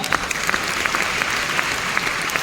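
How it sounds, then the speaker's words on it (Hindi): Loud, sustained applause from an audience at a team training session in Kolkata, steady crowd clapping with a few sharper claps standing out near the listener. "आपके लीडर के लिए जोरदार ताली होनी चाहिए।"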